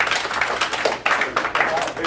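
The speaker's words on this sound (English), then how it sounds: "Clap it up for Chris." Scattered clapping from a gathering at a football team's senior week event rises in brief bursts for a player, mixed with voices and room noise, close and fairly loud.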